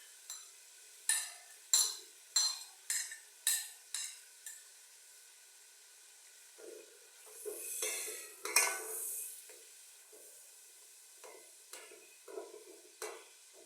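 Chopped tomatoes go into softened onions in a frying pan: a string of sharp spoon-on-pan knocks and scrapes, then a soft sizzle and stirring with more clinks, close and fairly quiet.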